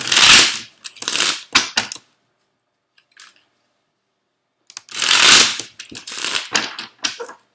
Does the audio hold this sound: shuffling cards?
yes